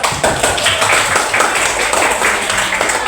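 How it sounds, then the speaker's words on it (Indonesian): Junior high school students clap together in a classroom after group presentations during a teaching practice exam, close, loud, dense clapping with a little chatter underneath. "Tepuk tangan dulu."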